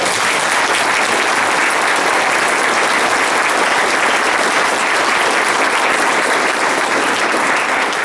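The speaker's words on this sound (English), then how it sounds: "I think we owe Michael a great round of applause" Loud, sustained applause fills a town hall crowd at a Tea Party event, a dense continuous wash of clapping throughout with no break.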